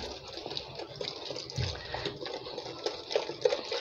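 Cornstarch mixture poured into a vanilla custard mixture, a soft close splashing and gurgling pour with small clinks near the end, no talk.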